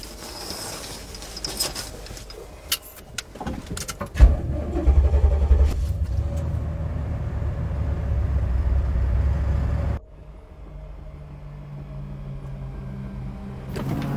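A car pulls away after some close clunks and rustling, its engine rising into a steady, low rumble that holds for several seconds and then drops to a quieter hum.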